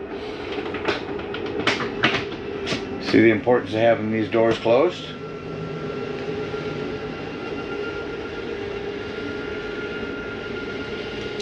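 The slide-out on a Heartland Prowler 303BH travel trailer retracting makes a steady low motor drone. Someone talks over its start, and then the drone runs on alone at an even level.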